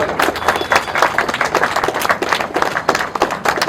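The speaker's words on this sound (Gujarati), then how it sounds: "તાળીઓ ચાલુ રહેવી જોઈએ ભાઈ, તાળીઓ વળો" An audience claps briskly during a medal presentation at a patriotic function held in a gym in Tadkeshwar village, with many close, overlapping hand claps forming a lively, uneven burst of applause.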